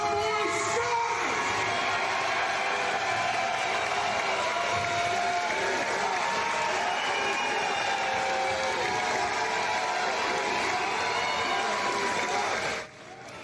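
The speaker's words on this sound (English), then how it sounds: "let's have the biggest ever round of applause for Jeffrey Drumboy Scott!" A large indoor crowd at a Windsor wrestling event cheers and applauds in a dense, sustained roar that holds steady for about thirteen seconds before dropping off abruptly at the end.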